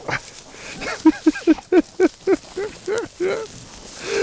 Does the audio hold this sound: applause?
no